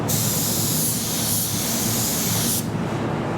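A DV1 paint spray gun sprays sealer at 15 psi, giving a loud, steady airy hiss that runs unbroken for about two and a half seconds before cutting off.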